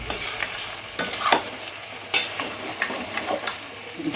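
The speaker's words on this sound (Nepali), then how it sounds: "जिरा धनियाँको पाउडर अब मसलाहरू लगायो यसरी भुट्नुपर्छ" Cumin and coriander powder and other spices fry in oil in a pan. A steady crackling sizzle is broken by repeated sharp scrapes and clinks of stirring, fairly close, with no talking.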